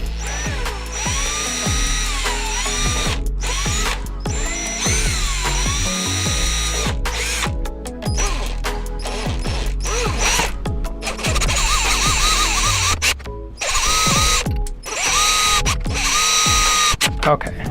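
A power drill bores holes through the sides of silverware pieces for a windchime, whining in repeated bursts with rising and falling pitch, close and loud throughout.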